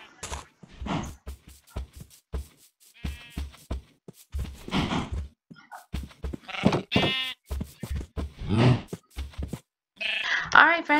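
Minecraft sheep bleat repeatedly in a farm pen, several short wavering cries scattered among clicks and footsteps, with a few brief voice sounds between them.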